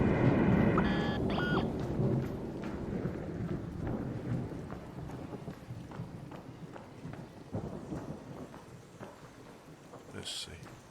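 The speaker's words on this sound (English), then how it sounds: "an electromagnetic storm is currently raging over topside. Beware the lightning strikes if you're outdoors." Low rumbling thunder from an electromagnetic storm in the video game ARC Raiders rolls continuously with rain-like hiss, loudest at the start then easing, with a few short tonal game sounds over it.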